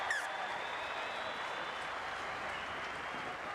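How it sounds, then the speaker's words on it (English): Stadium crowd applauding at a rugby league match between Wests Tigers and Brisbane Broncos in 2000, a steady distant wash of clapping that holds evenly throughout without voices over it. "The crowd appreciating it"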